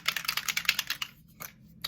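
A rapid series of hissing bursts from a makeup setting spray mist, close and fairly loud, pulsing quickly before a pause and a couple of final short sprays.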